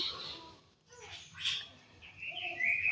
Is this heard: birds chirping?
yes